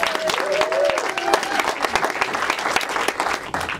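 Applause from a premiere audience at a film screening fireside chat, dense and steady for about four seconds, with a voice speaking briefly over the start.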